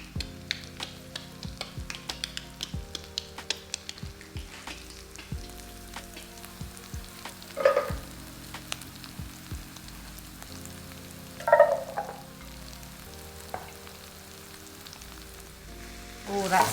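Spices and onions frying in a pan for a garlic, chickpea and spinach curry, a steady close sizzle with crackling pops and occasional stirring scrapes, no talking.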